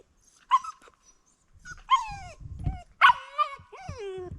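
A puppy lets out several high yips and whining whimpers close up, in short bursts separated by pauses, with faint shuffling underneath.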